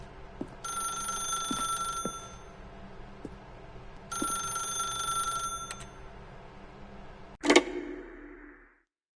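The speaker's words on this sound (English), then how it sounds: "If you can truly place your faith in another, then pick up the phone." A telephone rings twice in the video game The Stanley Parable, bright trilling bursts with a soft ticking underneath, then a sharp clatter as the receiver is lifted.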